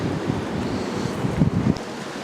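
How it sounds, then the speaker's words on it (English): Strong outdoor wind on a March day buffets the microphone in a steady, low, rumbling roar that swells briefly near the end, with no voices. "Well, the ice melted, but it's really windy."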